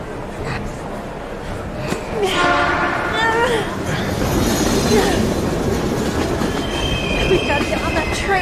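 A train roars past in the video game Heavy Rain, loud and close, with screeching wheel squeals and a horn-like tone rising over heavy rumbling rail noise that holds steady throughout.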